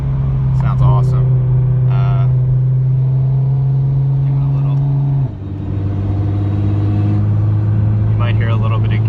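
A Nissan GT-R fitted with a Fabworxs 4-inch exhaust idles and revs with a deep, steady gargling drone, dropping pitch midway; a faint whine rides over it, and people talk briefly over it.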